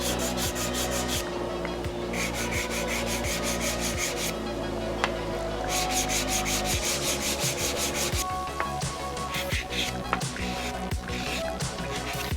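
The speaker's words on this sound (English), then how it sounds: "used a hand sander just to kind of break the sharp edges a little" Hand sander smoothing the sharp edges of an industrial light sculpture, a loud continuous rasping rub with rhythmic strokes throughout and no talk.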